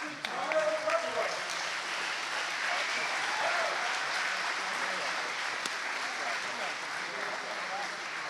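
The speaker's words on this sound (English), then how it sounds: "Give a big round of applause" Sustained applause fills an indoor archery hall after the men's pro shoot-off at the 2021 NFAA Indoor Nationals, a dense steady wash of clapping that holds at a fairly even level throughout.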